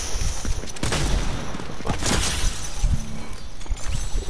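Heavy shotgun blasts from a video game, a few loud booming shots spread across a dense, noisy mix of game sounds with no clear pauses.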